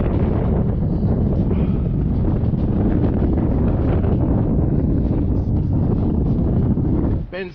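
Strong wind buffets a Welsford Penguin sailboat heading upwind in about 20 knots, a loud continuous rush and roar with gusty surges and water noise, steady throughout before dropping away at the end.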